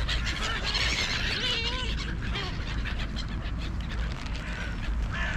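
A flock of silver gulls and black-headed gulls calls noisily, with harsh overlapping squawks and cries close by over a steady outdoor background.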